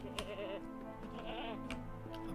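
Goat bleats in the fantasy video game LOTRO, set by a roadside near the Gladden Fields, a couple of wavering, nasal calls over a steady ambient music bed.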